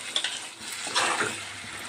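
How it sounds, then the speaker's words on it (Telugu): A paste of poppy seeds, cumin and coconut frying in oil with chicken for an egg chicken curry, stirred with scraping utensil strokes over a steady close sizzle, no voices. "ఇది కూడా ఆయిల్లో మగ్గే వరకు కలుపుకుందాం"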